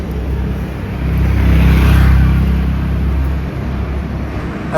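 A Royal Enfield Bullet 500 Standard engine rumbles loud and close on a winter ride to Purulia, a low steady thump that swells slightly mid-way, with wind rush and no talk.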